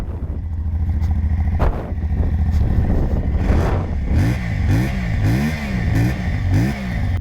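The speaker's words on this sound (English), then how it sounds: "it does sound kind of neat, that parallel twin" A Vettore 450 parallel-twin motorcycle engine idles steadily, then is blipped several times in quick succession, each rev rising and falling sharply; close and fairly loud, with no talking.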